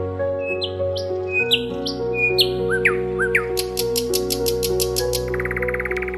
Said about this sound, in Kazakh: Неліктен құстар соншалықты керемет ән айтады?